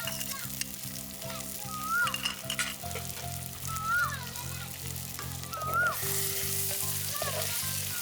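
Carrot and green, red and yellow capsicum fry for veg manchurian with a steady, moderate sizzle and hiss, while voices and a steady hum carry on in the background.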